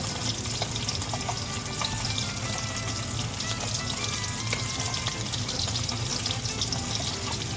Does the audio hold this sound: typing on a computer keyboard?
no